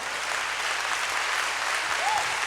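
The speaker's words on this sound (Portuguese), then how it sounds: "Dê um aplauso ao Senhor por isso." A church congregation claps together in a dense, sustained burst of applause that fills the room evenly for a couple of seconds, with a brief voice rising faintly near the end.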